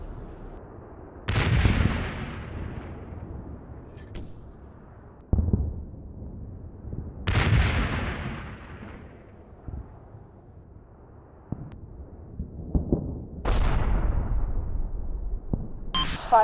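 Artillery spotting rounds landing in the Combat Mission video game, several heavy booming impacts spaced seconds apart, each with a long rumbling decay, loud and close over a quiet background.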